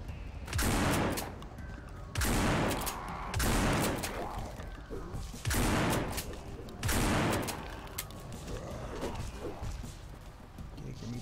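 A Mossberg shotgun fires in No More Room in Hell, five heavy booming blasts spaced roughly every one to two seconds, each loud and close with a short decaying tail.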